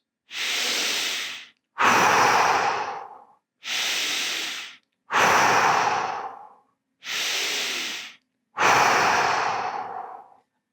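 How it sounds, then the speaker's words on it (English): Deep cleansing breaths from a breathing exercise: three slow cycles of loud, close airy inhales each followed by a longer, heavier exhale, evenly paced with short silences between. "We're doing the deep cleansing breaths"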